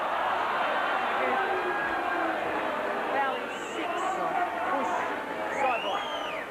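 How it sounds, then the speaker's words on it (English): Arena crowd at a 1990 NBL basketball game between the Adelaide 36ers and Newcastle Falcons reacts to a referee's foul call, a sustained roar of many voices with whistles and shouts rising briefly, heard behind a commentator's voice. "You can hear the crowd's reaction to that call from referee Michael Butler"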